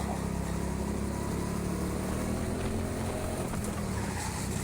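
A go-kart engine drones steadily throughout, hot and idling at an indoor track, with a rough, buzzing low rumble and no voices.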